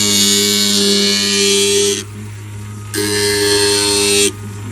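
Water-fed grinding tool running with a steady motor whine and broadband grinding hiss, loud and close, cutting out briefly twice as pressure comes off the workpiece, then resuming.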